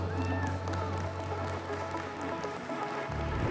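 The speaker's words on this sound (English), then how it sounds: "We'll get one more round of applause for Tord Reklev here" Applause from the crowd at a Pokémon TCG championship in Europe, a dense, steady patter of clapping lasting a few seconds with a low hum underneath.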